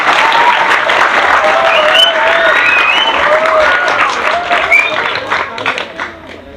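Audience applause at an Indonesian youth gathering, steady dense clapping across the whole stretch with cheers and voices mixed in, fading slightly at the end.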